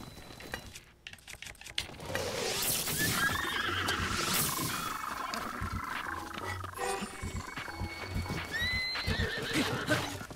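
A horse neighs and whinnies repeatedly amid hoof clip-clops and ambient sound in a Zelda video game, fairly close and lively throughout.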